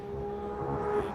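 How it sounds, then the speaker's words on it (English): Audi race car at the Pikes Peak hill climb, its engine a steady droning tone heard from a distance with a faint rise in loudness toward the end. "The sound of that car is just spectacular"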